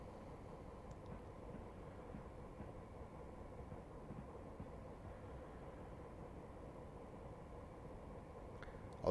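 A diesel train runs steadily in Train Simulator on the South Wales Main Line, a Class 175 unit heading to Cardiff, giving a constant low rumble with faint clicks, fairly quiet and without speech.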